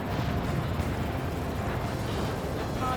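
Missile launch in the Ace Combat 7 jet combat game, a dense, continuous roaring rush that holds steady and loud for the full three seconds with no clear separate bursts.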